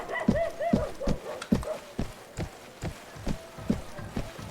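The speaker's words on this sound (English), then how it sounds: "I'm on a war horse." A war horse's hooves in the video game Northern Crusades, a rhythmic clip-clop of galloping footfalls close by, with a few brief snorts or whinnies in between.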